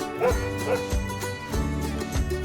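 A dog gives a few short barks and yips in a quick series, close and clear, over a steady tonal background.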